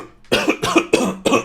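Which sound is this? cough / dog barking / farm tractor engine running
cough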